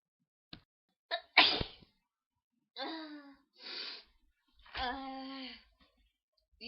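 Several sharp human sneezes in a row, each a quick gasping intake followed by an explosive burst, spaced unevenly with short pauses between, close and fairly loud with no talking.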